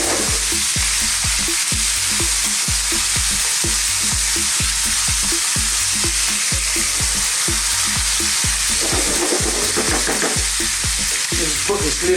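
Lean beef strips fry in a curry pan with a loud, constant sizzle. Rhythmic scraping stirs repeat about twice a second throughout.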